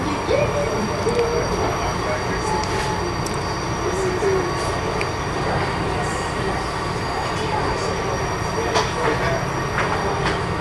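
Steady rumble of locomotive 501 on the Western Maryland Scenic Railroad rolling along, with faint wheel squeals and clatter as it eases its speed into a station; continuous and fairly loud throughout.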